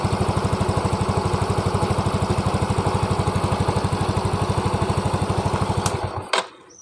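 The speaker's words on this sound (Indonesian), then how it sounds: "Walaupun kabel akinya saya cabut, motornya tidak mati ya." A Yamaha Mio M3 injected scooter engine idles with a steady, even putter and the battery cable disconnected, close and loud, before cutting off near the end with a clunk.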